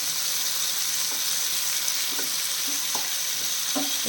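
Mango pieces fry in a pan with a steady, bright sizzle and occasional soft clicks of a spatula turning them, close and continuous with no talk.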